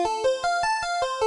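UVI Analogic Piano AP-09 with a harpsichord layer and arpeggiator on, a quick, even run of bright repeated notes with sustained tones ringing underneath, clear and alone.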